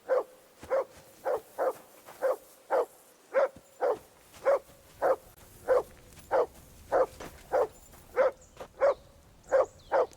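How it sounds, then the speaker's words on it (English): A dog in the video game Kingdom Come Deliverance 2 barks in a steady, evenly spaced series, about fifteen sharp barks at mid distance, alone over faint background ambience. "That barking was a pain in the ass."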